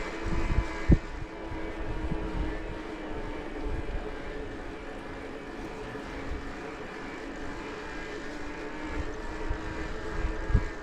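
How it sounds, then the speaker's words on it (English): The Brose mid-drive motor on a Ride1UP Prodigy ST e-bike hums quietly and steadily while riding outdoors, mixed with rolling and wind noise, with no talk. "I'm just gonna kind of be quiet, let you hear the motor as it engages."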